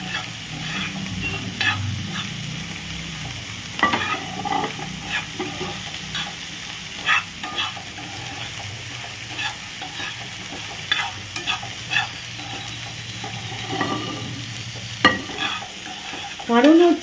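Whole garam masala spices are stirred in a hot pan over medium flame. A soft sizzle runs underneath while a spatula makes repeated scraping and rattling strokes, close and fairly loud, with no voices.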